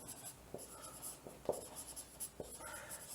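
Handwriting of chemistry notes, faint scratching pen strokes with a few sharper taps against quiet background, close and without talk.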